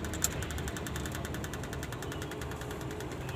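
A 1981 Toyota FJ40 hardtop's petrol engine idles steadily with the air conditioning switched on, giving an even, rhythmic ticking hum throughout, with one small click near the start and no talk.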